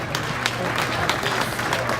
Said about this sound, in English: let's go ahead and give her a nice round of applause